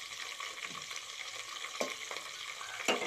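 Vegetables including tomato, beans, green chillies, coriander, mint and potato being stirred and tossed in a pan for a vegetable biryani, with steady scraping and soft sizzling and a few sharper clinks of the spoon against the pan.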